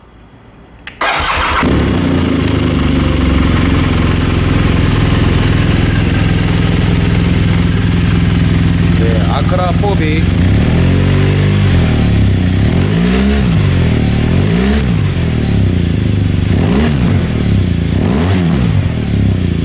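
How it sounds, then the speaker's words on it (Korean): A 2017 BMW R1200GS Adventure motorcycle engine cranks and fires, settling into a loud, steady, deep idle close by, then is blipped through several rising and falling revs toward the end. "시동을 한번 걸어 보겠습니다"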